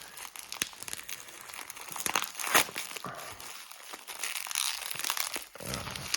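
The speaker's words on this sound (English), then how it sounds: "And inside is more bubble wrap and a lot of tape sticking to it." Bubble wrap and tape are pulled off a package, giving close, busy crinkling and crumpling with sharp tearing snaps, steady throughout and without any speech.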